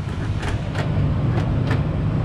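Power door locks in a 2005 Toyota Sequoia 4x4 actuating, several short sharp clunks spaced through the clip over a low steady rumble of the idling vehicle.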